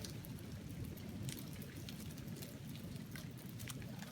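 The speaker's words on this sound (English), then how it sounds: "Look at the hail coming down." Hail pelting down on a mountain campsite, a dense steady patter with scattered sharper ticks of stones striking nearby surfaces, continuous and fairly close throughout, with no talk.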